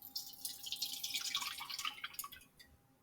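Water poured into a container for a snack food calorimetry lab, a close, continuous splashing and trickling pour that tapers off toward the end.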